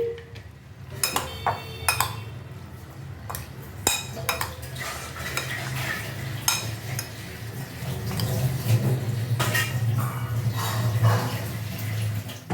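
Mourala fish being mixed with sour yogurt in a bowl, with repeated soft squelching and stirring clatter over a steady low kitchen hum, growing busier toward the end.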